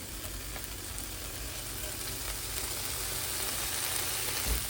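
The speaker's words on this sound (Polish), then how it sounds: "Odsmażymy i roztopimy, żeby wytopić trochę tłuszczu" Smoked bacon slices frying over a low flame in a pan as the fat renders, a dense, even hiss and crackle that holds steady throughout, close and fairly loud.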